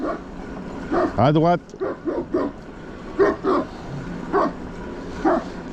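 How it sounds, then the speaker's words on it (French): A big dog barks several times on an outdoor walk, loud and close, with a brief whimpering yelp amid the barks while someone speaks French over it. "Ah, c'est un gros chien"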